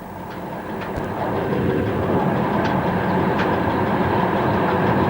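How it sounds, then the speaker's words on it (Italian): A train pulls into Osoppo station on the Sacile–Gemona railway line, its steady rumble growing louder as it rolls in, with rhythmic wheel clatter over the rails and occasional squeaks. It is heard close up from the cab, with no talking. "E il treno entra in stazione di Osoppo e ritorna ora sotto la catenaria."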